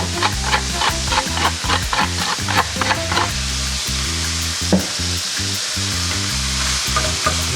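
Meat frying over high heat in a pan, seasoned with salt and pepper, giving a loud, steady sizzle with bursts of crackle and scraping as it is stirred and kept moving.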